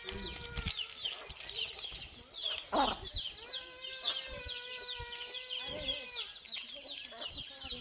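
Free-range village chickens cluck and chirp on a farm, several birds calling close by in overlapping strings of clucks, with a faint flutter of wings partway through.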